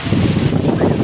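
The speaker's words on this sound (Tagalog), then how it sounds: "Super lakas ng hangin." Strong wind roars in continuous loud gusts close to the microphone, a dense buffeting rush during a rainy storm threatening a house roof.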